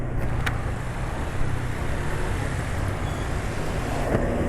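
Rough drivetrain noise from a vehicle running GGI SAE 140 gear oil, a steady coarse rumble with wind-like roar throughout, loud and continuous, with no voices.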